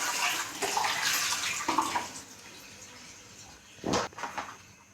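Water pours into a cooking pot holding sardines, a broad splashing rush over the first two seconds, then quieter, with a couple of short clunks near the end.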